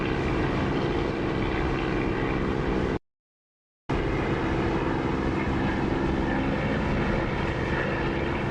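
A-20 twin-engine propeller aircraft droning steadily in a DCS flight simulation, a continuous engine roar broken by one short gap of silence, with no talk.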